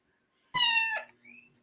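A cat gives one clear, close, drawn-out meow after a moment of quiet, followed by a softer, shorter trailing call.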